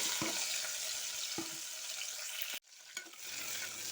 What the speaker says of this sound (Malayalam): സവാള നല്ലപോലെ വഴറ്റിയെടുക്കാം